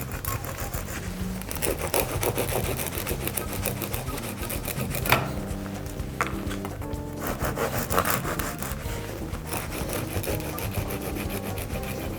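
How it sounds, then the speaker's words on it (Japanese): A knife saws repeatedly through a hard, crusty baguette, cutting thin slices. The rasping strokes are steady and close throughout. "まずは バゲットですね。 これを薄くスライスをしていきます。"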